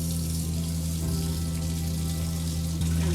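Warm water runs steadily from a kitchen tap fed by a newly installed propane water heater at an off-grid homestead, a constant close-up rush with a low pump-like hum beneath it.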